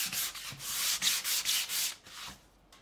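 Steady back-and-forth rasping of sandpaper on a block, close up, in a run of rhythmic strokes that eases off toward the end.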